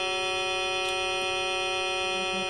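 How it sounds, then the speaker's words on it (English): Steady composite tone of many stacked sine waves from a scannable harmonic oscillator patch in Max/MSP, a dense sustained chord of evenly spaced harmonics humming continuously and fairly quiet, with no talking. "that's all sine waves simultaneously."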